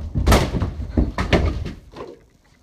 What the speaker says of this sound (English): Oh, Rhino charging and tripping Junies!